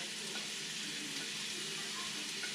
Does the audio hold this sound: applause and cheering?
no